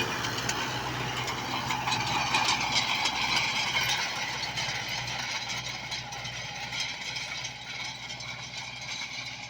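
A heavy tractor engine, a TZ 890.2 pulling 6-metre field rollers, drones steadily with a faint rattle, a continuous low rumble that never drops out.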